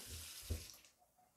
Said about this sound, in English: very good water pressure you can see